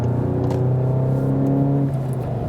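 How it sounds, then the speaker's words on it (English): A VW Golf GTI engine pulls steadily in third gear after a shift, a loud close droning hum with a steady tone that holds, then drops slightly near the end, with no talk. "I love to shift back to the third gear."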